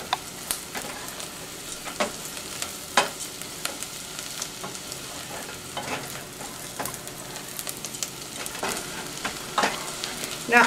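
Noodles and bulgur being stirred as they fry in a pan for a bulgur and noodle pilaf, with a steady close sizzle broken by repeated scraping strokes of the stirring utensil and no talking.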